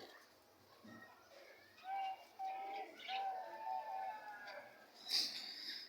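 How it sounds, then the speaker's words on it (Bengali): Pet pigeons or doves coo and chirp softly while feeding, with short warbling calls and a sharper chirp near the end, heard close but faint. "দেখছেন কত সুন্দর করে পাখিগুলা খাবার খাচ্ছে"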